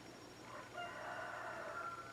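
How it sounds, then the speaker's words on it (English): A backyard rooster crows once in the distance, a faint drawn-out call rising and holding over a low steady background hum. "Got more chickens, so we have 6 now."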